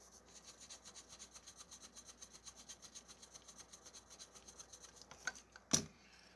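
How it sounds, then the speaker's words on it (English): A cracked white plastic key from a Yamaha KX88 keyboard is polished with abrasive in circular motions, making a quiet, even rubbing swish about twice a second, followed by a couple of sharp knocks near the end. "I'm going to just polish this up without even moving the wheel because it's that abrasive"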